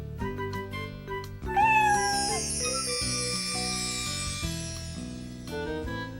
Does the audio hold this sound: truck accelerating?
no